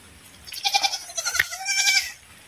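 Goats bleat several times in quick succession, close and fairly loud, in a short burst.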